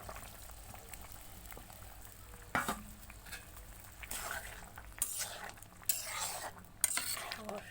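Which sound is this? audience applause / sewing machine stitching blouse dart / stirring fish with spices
stirring fish with spices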